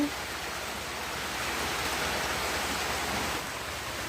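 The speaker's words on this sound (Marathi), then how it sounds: "म्हणजे पावसाला सुरुवात झाली आहे" Steady rain pours down in an even, hissing wash, moderately loud and continuous, with no voices.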